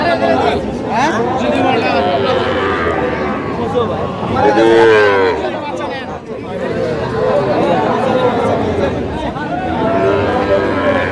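A bull calf at a Rangpur cattle market lets out a loud, drawn-out moo close by, over constant crowd chatter and people bargaining.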